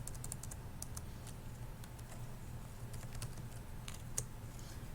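Keys tapped on a computer keyboard while editing CSS, faint and sparse clicks scattered over a steady low room hum.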